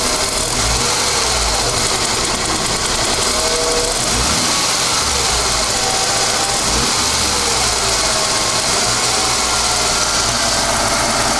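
A Ford EF Falcon with an idle problem runs loud and close, its engine note wavering and surging unevenly over several seconds, with no voices.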